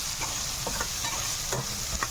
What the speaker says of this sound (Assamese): ফ্ৰাই হৈ আছে